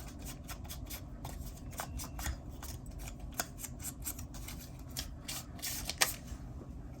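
Thin paper ephemera crumpled up by hand for a journal, giving a steady, close crackling and crinkling texture with short rustling bursts and no speech.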